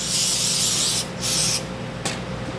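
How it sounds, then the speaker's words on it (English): Brake cleaner sprayed from an aerosol can onto a valve seat in a HEMI cylinder head, in two loud sustained hissing bursts with a short final puff, close up and without talk. "I like getting a little bit of brake cleaner"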